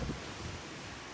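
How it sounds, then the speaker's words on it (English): Wind gusts across an outdoor spot, a steady broadband rush with a louder buffet at the start, close and continuous with no voices. "Definitely windy today"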